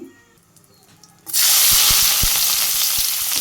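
Cabbage, potato and bean vegetables dropped into hot oil with cumin: after a quiet moment a loud, hissing sizzle erupts and holds steady and close, with a few soft thuds as pieces settle.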